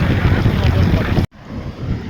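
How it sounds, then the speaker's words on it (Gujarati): Strong wind roars and buffets against the microphone, cutting out briefly before gusting back in, loud and steady with no voices. "કાંઈ પવન બહુ આવે અત્યારે"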